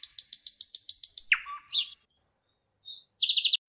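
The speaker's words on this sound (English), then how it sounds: "P is for parrot." A parrot gives a quick run of about ten evenly spaced bright chirps. A squawky downward call follows, then a short pause and another burst of rapid high chirps, all close and clear against silence.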